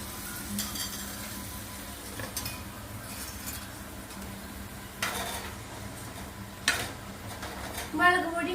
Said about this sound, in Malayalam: ഉപ്പ് വെള്ളം ഒഴിച്ചതിന്റെ ഷേ എന്നുള്ള സൗണ്ട്